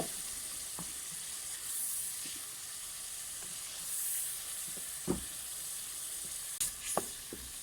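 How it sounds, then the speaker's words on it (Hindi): Tomato and masala gravy with ginger paste sizzles steadily in a pan for an aloo phaliyan (green beans and potato) dish, a soft continuous hiss with a few light clicks of stirring. "अपनी इस ग्रेवी को हम अच्छे से पकाएंगे ताकि हमारे टमाटर और ये मसाला अच्छे से भून जाए।"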